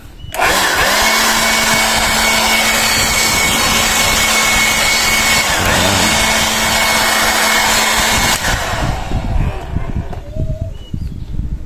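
A cordless portable air blower that doubles as a vacuum cleaner runs at full power, a loud, steady whine and rush of air for about eight seconds, then drops to a rougher, quieter blowing.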